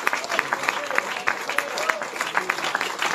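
A church congregation claps together during an evangelical Spanish-language sermon, the claps coming in quick rhythmic bursts while a preacher's voice rises over them and continues throughout.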